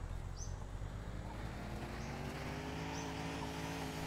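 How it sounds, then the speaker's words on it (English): A car engine in the driving game The Long Drive holds steady at high revs, bouncing off the rev limiter with a continuous, slightly stuttering drone and rising harmonic tones, alone and fairly close. "It's just bouncing off the rev limiter."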